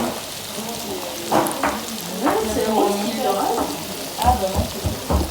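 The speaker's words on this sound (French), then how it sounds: "J'aime pas quand l'huile elle est grave mousseuse, ça cuit plus, j'ai l'impression." Foamy oil frying in a pan during home cooking, with a paella going alongside, gives a steady close sizzle and crackle while faint voices murmur underneath.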